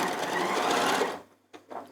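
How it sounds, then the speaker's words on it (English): A sewing machine sews down a fabric edge with a quarter-inch seam allowance. The stitching runs close and loud for about a second, then stops, followed by a couple of soft clicks. "And we're just going to sew down the edge."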